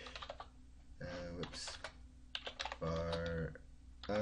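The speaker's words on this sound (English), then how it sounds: "Let's just start typing it out and see what we come up with." Fingers tap out code on a computer keyboard in quick irregular bursts of clicks, close and clear, with a voice speaking in short phrases between the keystrokes.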